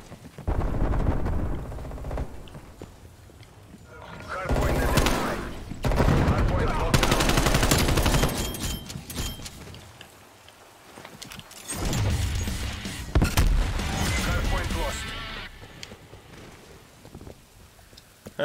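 Bursts of automatic gunfire crackle in a Black Ops Cold War multiplayer match, rattling in loud volleys separated by quieter gaps, with a voice talking in between.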